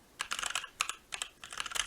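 Fast bursts of clicky keystrokes come from an ASUS ROG Falchion NX ultra compact keyboard, typed close up in short rapid runs with brief pauses.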